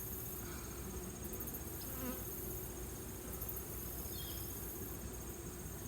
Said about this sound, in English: As you go further down, I notice there's more and more bees.